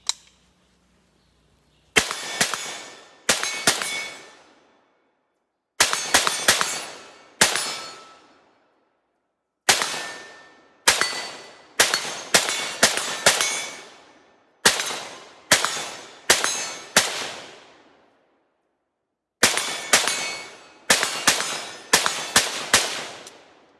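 Arsenal 107R rifle shots ringing off steel targets, about twenty sharp loud cracks in irregular clusters, each followed by a bright metallic clang that decays into silence between volleys.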